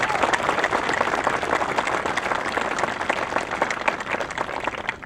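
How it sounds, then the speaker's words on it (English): An audience at a Long Beach, New York court dedication ceremony claps in sustained, dense applause for several seconds, even and loud throughout. "Let's give them another round of applause"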